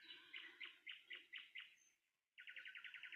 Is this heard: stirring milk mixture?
no